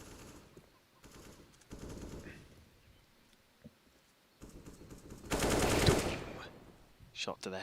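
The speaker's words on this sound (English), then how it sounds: "Added my own sound effects there, because I was getting a bit bored of just hearing the headshots." Bursts of rapid gunshots over a Counter-Strike match, several short volleys then one loud sustained burst, with a commentator talking between them.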